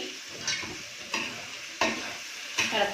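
A spoon stirs a crushed chicken mixture with lemon juice in a pan, four sharp scraping strokes spaced roughly evenly over a soft background sizzle, close and fairly quiet.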